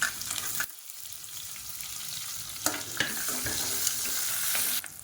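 Sliced onions hit hot oil with a sharp burst of sizzling, settling into steady frying crackle punctuated by a few clinks of stirring, while cooking moong dal pulao.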